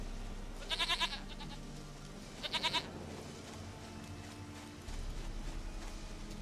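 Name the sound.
goat bleating in The Witcher 3 video game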